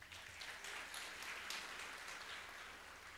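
A church congregation applauds in worship, giving a faint, distant wash of many hands clapping that stays steady for a few seconds with no voices on top.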